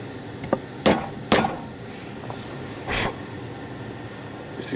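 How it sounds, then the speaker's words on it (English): Hammer blows on a center punch marking hole positions in an aluminium build plate at a drill press: three or four sharp metallic taps spaced irregularly, close and fairly loud over a quiet shop background. "we will center punch each hole."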